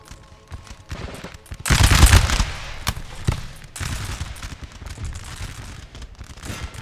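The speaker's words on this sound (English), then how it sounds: "And then they're gonna deliver some damaging volleys from the flank." Musket volleys fire in a Napoleon: Total War battle: a loud crackling burst of massed gunfire, followed by scattered shots and a rolling fusillade that fades into the background.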